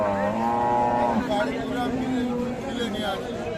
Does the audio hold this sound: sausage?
no